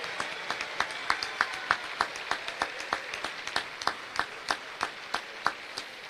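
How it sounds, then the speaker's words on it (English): Audience applause at a National Games closing ceremony in Launceston, a broad crowd clapping continuously at moderate distance, with a few sharper, evenly spaced claps standing out from the wash. "Please give all of them another round of applause."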